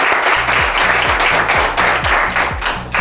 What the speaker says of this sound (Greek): Ένα χειροκρότημα τώρα για την Ηλιάνα